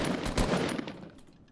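Rapid automatic gunfire from the video game Fortnite rattles in a quick burst, moderately loud at first and then tailing off into quieter scattered shots.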